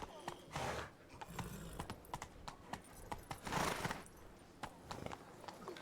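A horse gallops in The Witcher 3: Blood and Wine, its hooves making a rhythmic clip-clop. The hoofbeats are fairly faint and steady, with occasional heavier swells.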